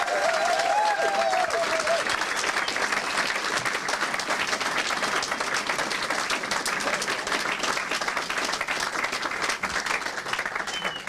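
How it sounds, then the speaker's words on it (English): Long, full round of applause from a crowd for the marshals and team at the end of a 24-hour kart race at Buckmore Park, steady dense clapping with a few brief whistles early on and no speech. "Can we just have a round of applause, please, for all my marshals and the Alpha team who have been up for 24 hours."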